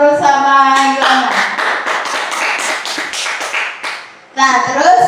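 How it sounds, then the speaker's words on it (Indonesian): A school class claps hands together for classmates, a run of quick, fairly even claps for about three seconds, framed by a teacher speaking before and after. "beri tepuk tangan dulu sama Nurul sama Yona."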